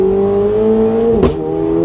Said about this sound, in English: now the exhaust is warming up